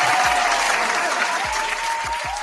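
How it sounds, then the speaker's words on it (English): Applause, dense and steady, holding at one level throughout, with a few low thumps underneath. "Round of applause."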